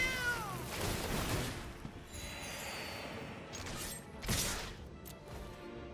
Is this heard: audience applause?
no